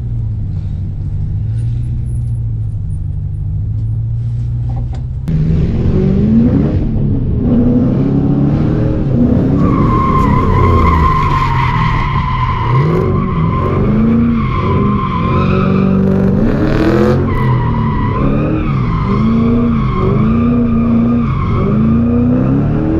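A drift car skids at a drift event, loud tyre squeal sliding and wavering in pitch over a revving engine, continuous and close for most of the stretch after a lower engine drone at the start.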